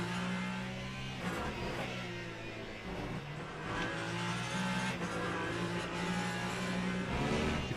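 Onboard a race car in Le Mans Ultimate at Bahrain, the engine drones loud and close with steady revving, gear shifts and brief dips in pitch, continuous throughout.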